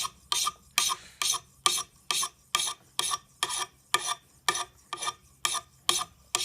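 An axe edge is stroked with a KME sharpening system stone, about fifteen even, rhythmic rasping passes with brief gaps between them, close and fairly quiet with no talk.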